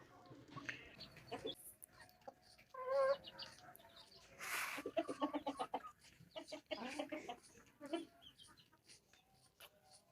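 Chickens and roosters cluck and squawk in a coop, with two roosters fighting; bursts of loud agitated calls and flurries come close by, alone with no talk.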